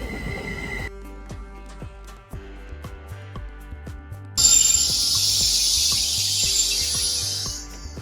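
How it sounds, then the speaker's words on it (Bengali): A double-decker Caltrain rolls into a station in California with rhythmic wheel thumps over rail joints, then a loud prolonged hiss of air brakes as it slows to a stop. "বলতে বলতে ট্রেন এসে গেল একদম"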